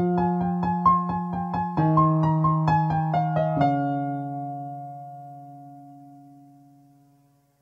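Piano playing the second part of the intro to a song in a reimagined arrangement: repeated rhythmic chords over low octaves, then a final low chord left to ring and slowly fade.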